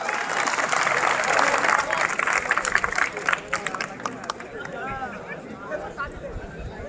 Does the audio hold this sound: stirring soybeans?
no